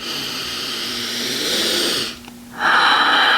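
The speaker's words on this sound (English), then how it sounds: "finishing that deep breath with the mouth open" A deep, breathy exhalation through an open mouth during a yoga session, loud and close, then a brief pause and another strong airy breath.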